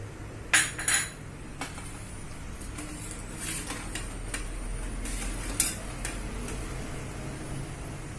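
Metal utensil scraping and clinking against a plate as it is greased with ghee while making peanut barfi for fasting, a few sharp clatters early on, then soft intermittent scrapes, close and fairly quiet.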